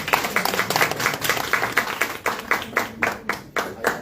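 A small crowd claps to welcome a man onto the stage at a book launch, the individual claps distinct and somewhat irregular, loud and close, with a few louder bursts near the end.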